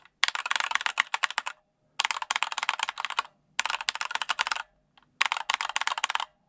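Fingers type on a KB498L keyboard fitted with K2 keycaps, producing rapid, crisp clacking in four close bursts of about a second each, separated by brief pauses and with no voice.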